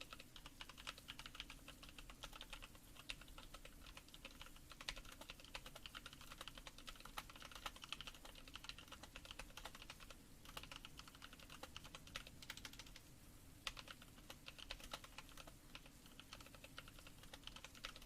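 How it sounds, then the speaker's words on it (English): Steady, continuous typing on a computer keyboard, a dense run of soft key clicks going on for the whole stretch at low, even volume with no talking. "Let's do some more typing."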